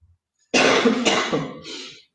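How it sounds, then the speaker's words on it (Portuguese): A single harsh cough bursts out, followed by a shorter throat-clearing rasp, close and loud, with nothing else around it. "Desculpa, essa tossinha chata, né?"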